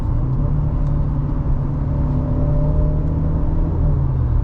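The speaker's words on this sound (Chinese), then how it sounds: "你看我降档" A 2018 Mercedes-Benz C200 1.5T EQ Boost, W205, downshifts with rev-matching, a steady low engine drone and rumble heard from inside the cabin with no talk.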